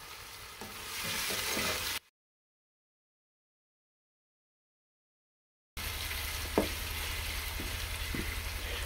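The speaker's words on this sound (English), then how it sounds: "So after having cooked our tomatoes in our spices for a couple of minutes or so" Tomatoes frying in spices in a pan while cooking vegetable pulao, a steady close sizzle with occasional stirring scrapes, broken by a few seconds of silence before the sizzling resumes.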